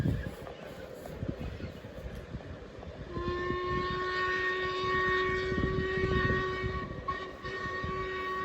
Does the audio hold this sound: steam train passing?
yes